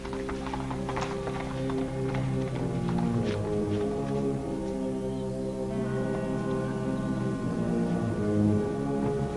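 Horse hooves clip-clop in a steady, moderately close rhythm over a continuous hissing background, with the sound staying even for the whole stretch.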